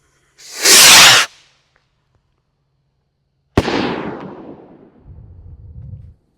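A Master Color Ballistic red firework rocket launches with a loud whooshing hiss, then after a pause bursts with a sharp bang followed by a decaying rumble and crackle.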